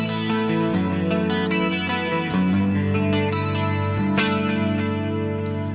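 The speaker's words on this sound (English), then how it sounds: "Or on the neck pickup it sounds like this." An electric guitar on its neck pickup plays through a Fractal Axe FX rig, its distorted tone thickened with chorus and echo. Rich sustained chords and picked notes ring out continuously at a strong, even volume.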